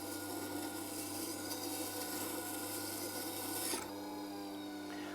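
A carving V tool ground on a Record Power WG250B grinder fitted with a short tool jig gives a steady, loud, close-up rasping grind that runs for several seconds, then cuts off, leaving a lower motor hum.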